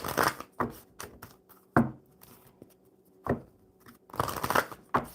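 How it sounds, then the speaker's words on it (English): Playing cards, apparently oracle cards, are shuffled by hand in several short riffling bursts separated by pauses, close and fairly loud. "One more good shuffle for divine energy"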